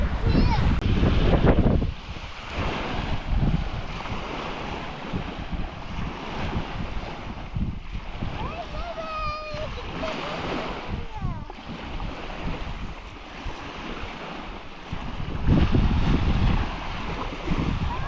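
Surf washes steadily with gusty wind buffeting the microphone, while people talk and a voice rises over the water.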